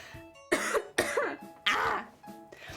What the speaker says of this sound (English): I'm probably gonna be coughing a hell of a lot, not because I got COVID, but because the goddamn dust from packing all this fabric has been hitting me hard